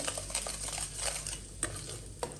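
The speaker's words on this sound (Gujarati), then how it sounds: "ત્યારબાદ સરખી રીતે હલાવી લઈએ" Spoon stirring green chili pickle with salt and spices in a pan, soft continuous scraping and light sizzle with a few sharper clinks against the metal, close and fairly quiet.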